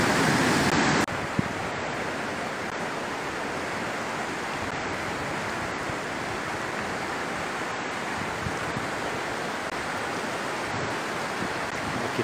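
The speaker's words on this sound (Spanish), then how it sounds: "Aquí está el río, se abren dos brazos." A swollen, flooded river rushes past in a steady, dense roar that fills the whole stretch, broad and constant with no talk.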